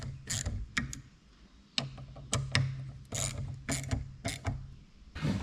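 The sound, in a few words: tightening with a 1/4 inch ratchet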